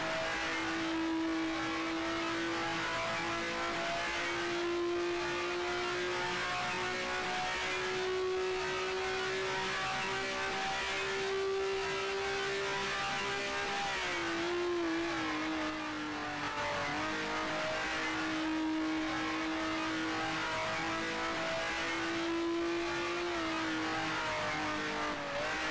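A 1967 Eagle Formula 1 race car in Grand Prix Legends at Indianapolis Motor Speedway drones at high revs for a long stretch, holding a near-steady engine pitch with one brief dip and recovery as it shifts gear, and no talk.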